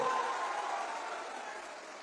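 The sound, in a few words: crowd applauding at political rally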